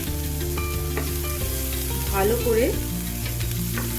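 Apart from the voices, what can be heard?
frying ginger and garlic in a pan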